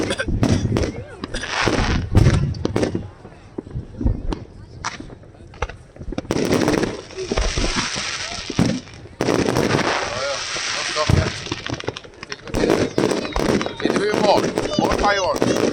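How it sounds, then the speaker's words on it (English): Fireworks display at Vestlia Resort, with repeated sharp bangs and crackling bursts in rapid, irregular volleys, loud and fairly close, under excited talk from onlookers. "More fireworks."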